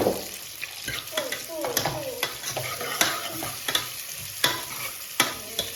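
Onions and tomatoes frying in a pan at home, a steady crackling sizzle broken by repeated sharp scrapes and stirs of a utensil, close and fairly loud with no talking.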